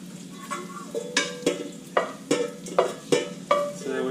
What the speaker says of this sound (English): I'm going to go ahead and take it out of the pot.